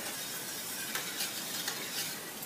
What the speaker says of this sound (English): Once the custard starts to thicken, stir briskly at that point.